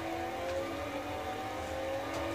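A car slides and drifts in the Xbox 360 racing game Forza Motorsport 3, its engine a steady high droning whine with slight tonal wavering, fairly faint and continuous with no talking.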